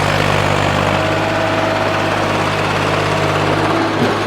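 A tractor engine runs steadily while driving a heavy Prime Agro rotavator, giving a loud, continuous droning rumble with constant vibration and no pauses or voices.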